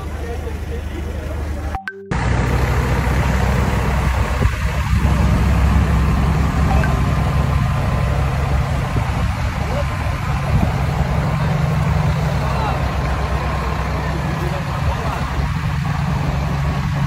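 Diesel engine of a fully loaded B-train truck carrying about 10 tonnes of food and pallets of water, idling as a steady low rumble that runs throughout, with people talking over it.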